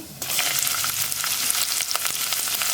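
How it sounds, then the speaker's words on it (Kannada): Whole cumin, cinnamon, cloves and cardamom crackle and sizzle loudly in hot oil, a steady close frying hiss that starts abruptly and runs throughout, with small pops scattered across it. "ಎಣ್ಣೆ ಕಾದಿದೆ ಜೀರಿಗೆ ಒಂದು ಸ್ಪೂನು ಚಕ್ಕೆ ಲವಂಗ ಏಲಕ್ಕಿ ಆ್ಯಡ್ ಮಾಡ್ಕೊಂಡಿದ್ದೀನಿ"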